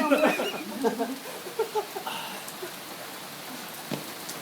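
Steady rain falls outdoors as a soft, even hiss throughout, while people talk over it at the start.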